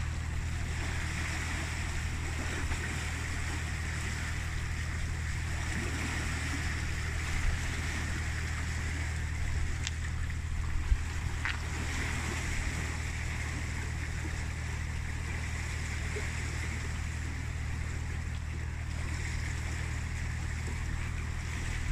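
Water pouring steadily through a canal pound lock as the levels equalise, a constant rushing wash over a low engine-like hum, with a few faint knocks now and then.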